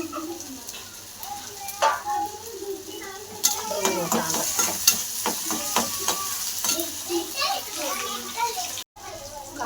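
Masala frying in a pan while it is stirred, an ongoing sizzle under scraping stirs and clinks, with children's voices and talk in the background.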